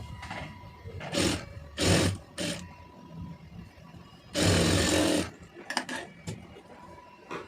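A sewing machine stitches a puff sleeve trimmed with saree border fabric, running in several short bursts and one longer run, with quiet handling sounds in the gaps between.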